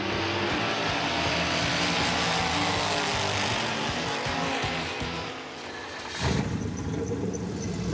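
A turbocharged Mazda-engined car pulls away, giving a loud, steady engine drone that dips briefly, then swells again near the end, with no talk.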